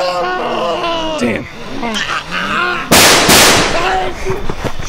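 A single loud gunshot cracks out near the middle of a tense zombie-hunting scene in North Carolina, cutting through shouting and panicked voices that continue around it.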